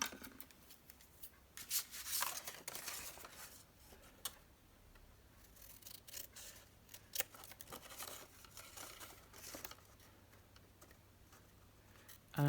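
Quiet, intermittent snips and crisp cuts of scissors through fabric, spaced irregularly, with soft rustling in between.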